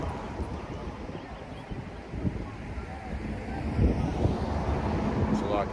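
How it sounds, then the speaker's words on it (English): Steady, rough wind gusts outdoors at a camp gathering, a constant blustery rush buffeting the microphone throughout with no letup. "It's kind of windy out here"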